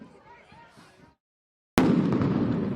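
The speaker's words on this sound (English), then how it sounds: "Another explosion there of tear gas." A tear gas canister bursts outside an ICE facility during a protest of several hundred people at night, a single loud, sudden bang after a brief silence, followed by sustained crowd noise and rumble.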